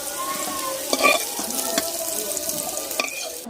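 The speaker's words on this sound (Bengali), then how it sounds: "ওই বেঁচে থাকা তেলে আমি দিয়ে দেবো 2টো তেজপাতা, 2টো কাঁচা লঙ্কা আর কিছুটা গোটা গরম মশলা" Bay leaves, green chillies and whole garam masala spices fry in leftover oil after potatoes, giving a steady close sizzle with a few brief stirring clatters and no talk.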